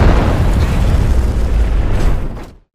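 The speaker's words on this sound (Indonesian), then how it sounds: "membunuh Edward dengan meledakkan tempat itu" A huge explosion blows up a building in a film scene: a dense, roaring boom that fills the whole clip at full loudness, then cuts off abruptly into silence near the end.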